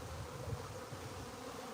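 A dense, steady buzzing of a honeybee swarm fills the clip, a continuous droning hum with no voices.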